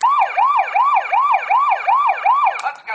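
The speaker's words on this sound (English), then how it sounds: "If you push the floodlights, he'll make some siren sounds." A Transformers Optimus Prime toy truck sounds an electronic siren, a loud, close wailing whoop repeating rapidly and evenly about seven times before cutting off.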